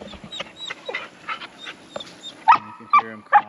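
Three abandoned puppies dumped near a rural property whimper and yip in short, high cries, a few close and sharp toward the end, with soft panting and rustling between them.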